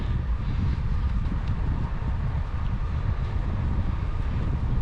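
A strong wind roars and buffets the microphone in a constant low rumble, heavy and unbroken throughout, during a bicycle trip.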